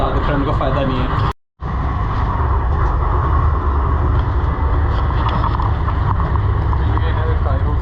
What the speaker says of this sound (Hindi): ये ट्रेन बड़ी तेज़ चल रही है